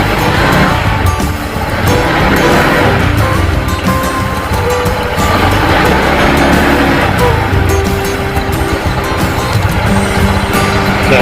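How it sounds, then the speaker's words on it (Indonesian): A Honda ADV 160 scooter engine runs during a coolant change, a loud, close, steady mechanical roar with constant rattling and noise that continues throughout. "Semua kita nyalakan mesinnya teman-teman."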